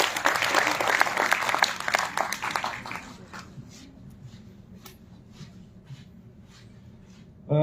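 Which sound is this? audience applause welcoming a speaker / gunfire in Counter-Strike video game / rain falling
audience applause welcoming a speaker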